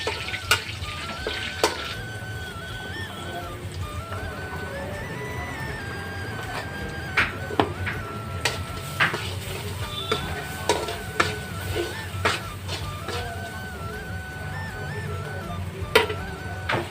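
Ghugni chickpea curry being tempered in hot oil in a home kitchen, with a steady sizzle and frying hiss throughout, punctuated by sharp spattering pops and occasional clinks of a utensil against the pan.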